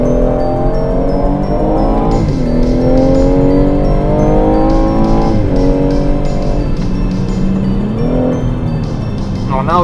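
A 2017 BMW M240i M Performance pulls hard under full throttle, its engine rising steadily in pitch as the 8-speed automatic snaps through quick upshifts with brief dips between gears, loud and close with a continuous droning roar.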